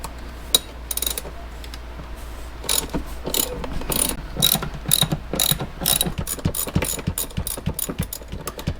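A ratchet drives out two T30 Torx bolts holding a car seat, giving close, rapid clicking bursts that grow denser and more continuous toward the end, with a low background hum underneath.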